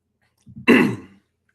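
A man gives a brief, close throat-clearing cough, a couple of small grunts leading into one rough, forceful hack that trails off within a second.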